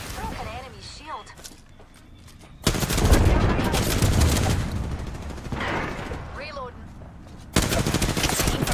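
Rapid automatic gunfire bursts from a fast-reloading weapon in the Apex Legends battle royale shooter, loud dense volleys with brief gaps, over someone talking and faint footsteps.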